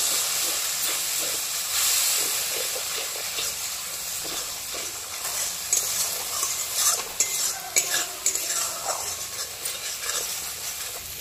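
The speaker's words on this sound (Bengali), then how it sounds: "এবার মশলাটাকে একটু ভালো করে কষে নিতে হবে।" Spice paste for begun bahari sizzles in a hot pan as it is stirred and fried, a steady close hiss with scraping and clattering spatula strokes growing busier toward the end, no talk.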